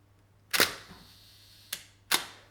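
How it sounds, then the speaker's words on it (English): Three sharp mechanical clicks from a Hasselblad camera shutter, close and crisp in a quiet room, the first stronger and followed by a faint mechanical tick. "So listen to the shutter sound of my Hasselblad."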